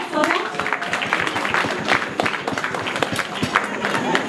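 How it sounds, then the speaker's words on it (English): Audience hand clapping at a Rotary Club presidential installation, a steady spread of claps from a crowd with voices mixed in throughout. "And you think we don't deserve a hand clap for that?"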